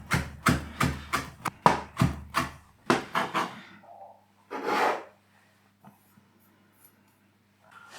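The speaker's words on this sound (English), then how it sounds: "So I'll just chop the parsley." A knife chops parsley on a cutting board in a quick run of sharp, close taps, then pauses for a scraping sweep and a few scattered soft knocks.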